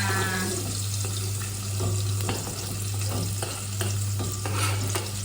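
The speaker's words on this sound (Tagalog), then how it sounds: "magigisa na tayo ng ating bawang at sibuyas" Garlic and onions sautéing in a pan at home, a steady sizzle with scraping stir strokes and a constant low hum underneath, no voices.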